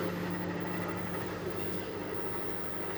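A 1080 W microwave oven running on a hybrid inverter with cooling fans, giving a steady low hum and drone held at an even, quiet level throughout.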